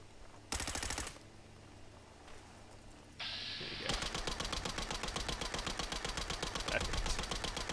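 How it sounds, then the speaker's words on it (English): Full-auto fire from a modded micro-infiltrator gun in the video game Fallout 4: a brief burst and shifting game noise, then a loud, steady stream of rapid shots that runs to the end. "Even when I'm full autoing this, I can get most of these shots on."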